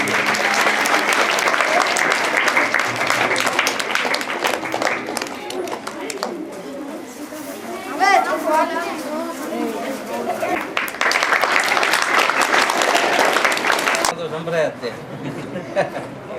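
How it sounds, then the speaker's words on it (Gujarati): An audience claps at a primary school farewell ceremony, dense sustained applause filling the room for most of the stretch, with a speaker's voice and some chuckling briefly heard in the middle. "આપણે સૌ તાળીઓના ગડગડાટથી એમના આ ભાવને વધાવીએ"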